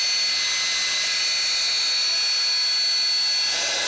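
Motor of a Scarlet SC-280 vacuum cleaner being run in after brush repair, a loud steady high-pitched whine that holds level throughout with no voices.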